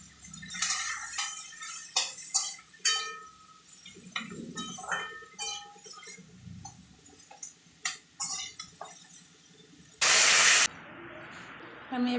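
Tomatoes hit a hot pan for a chilli paneer dish with a sudden, loud burst of sizzling hiss. Scattered clinks and taps of cooking come before it.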